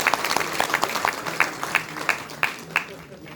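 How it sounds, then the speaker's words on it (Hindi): An audience at a conference session claps in scattered, uneven bursts, individual claps distinct and moderately near rather than a full roar. "ताली बजा दीजिए भाई"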